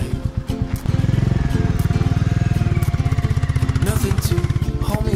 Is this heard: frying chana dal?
no